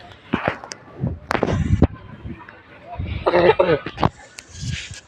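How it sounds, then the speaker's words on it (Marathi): Several harsh coughs and throat-clearing bursts come close to the mic, mixed with brief bits of talking. "खोकला यायला लागलाय."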